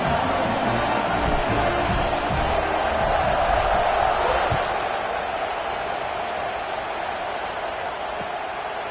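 A football stadium crowd roars and cheers steadily as the kickoff unit takes the field, a broad, dense wash of massed voices that swells and then eases slightly.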